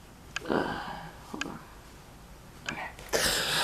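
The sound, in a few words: blowing nose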